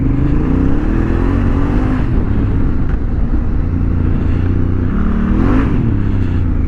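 A Honda Africa Twin motorcycle engine pulls through smooth, steady acceleration, its low rumble rising in pitch twice with loud, continuous revving close by and no talking.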